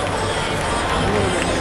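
Dense, steady applause from an audience welcoming children presenting dogs at a junior handling dog show in Geneva, a continuous crackling wash of clapping with a little crowd murmur underneath.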